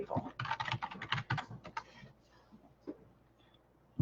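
Rapid bursts of typing on a computer keyboard, dense clattering keystrokes for about two seconds, then a few scattered single taps with quiet pauses between.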